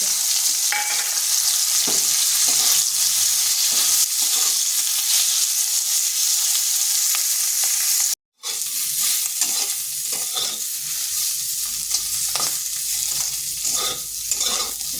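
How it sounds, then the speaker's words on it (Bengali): Bitter gourd pieces frying in hot oil in a pan, a loud continuous sizzle with steady stirring scrapes, briefly cutting out for a split second midway before the sizzling and stirring resume. "আর ওই তেলের মধ্যে করলাগুলো একটু ভেজে নিচ্ছে।"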